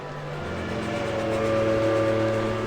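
A steam train's loud, sustained whistle sounds in a video game story event, a steady tonal blast held for several seconds over a low rumbling chuff.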